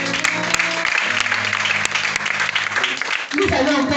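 A church congregation at a healing service applauds and acclaims the Lord, with dense sustained clapping, cheering voices and music underneath, building toward the end.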